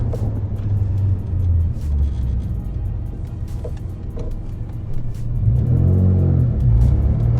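A Rossion Q1 sports car's turbocharged engine rumbles on the move, then builds and rises in pitch as it accelerates hard toward the end.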